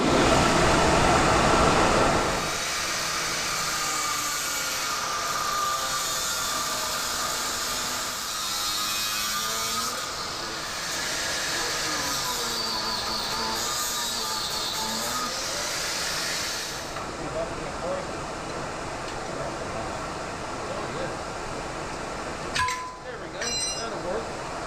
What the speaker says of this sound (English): I have the fan going on, trying to get this stuff out of here, so it's going to be kind of loud